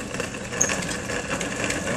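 A Chauger grinder crushes and grinds material fed through its blades a couple of pieces at a time, giving a continuous close mechanical whir with a gritty, grinding edge and no talk.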